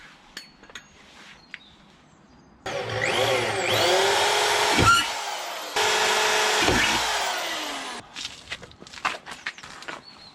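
A power drill drives a screw into a block of wood on a motorhome, whirring in two sustained bursts with a brief pause between, close and loud, surrounded by small taps and handling clicks.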